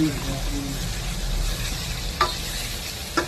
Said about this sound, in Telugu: కలుపుతున్నా. మెల్లగా కలపాలి.